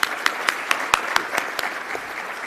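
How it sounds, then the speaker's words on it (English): An audience claps for a conference panel and its moderator at a plenary session, steady close applause with sharp individual claps standing out in a regular rhythm, no speech on top. "One more round of applause, please, to our panel and our moderator."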